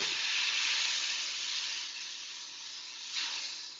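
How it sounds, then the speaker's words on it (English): Ingredients stirred in a hot frying pan, giving a loud, steady, close-up sizzle with a brief scraping swell near the end. "I'm going to give it a quick stir to even that all out in the pan."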